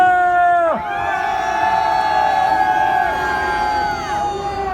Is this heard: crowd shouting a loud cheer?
yes